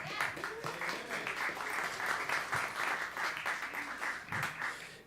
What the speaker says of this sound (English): Please clap it for Hayden.